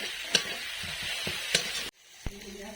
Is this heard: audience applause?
no